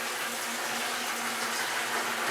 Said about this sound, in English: and it turns on the water